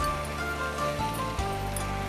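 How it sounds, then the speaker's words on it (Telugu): Water poured into a pot of gongura leaves for mutton curry, a steady close splashing gush with a few changes in flow, loud and continuous. "కొంచెం వాటర్ పోసి"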